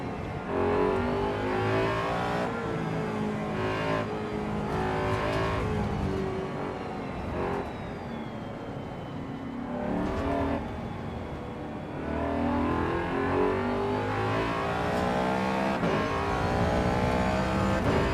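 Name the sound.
race car engine and exhaust in video game AC Evo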